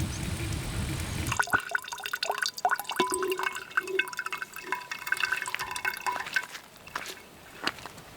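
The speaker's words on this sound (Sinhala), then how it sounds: "මොකද කරන්නේ බෝතලෙට දාගන්න වතුර" Water gurgles and trickles into a bottle at a lakeside campsite during rain, with uneven dripping and splashing after a louder rush at the start, close by and with no talk.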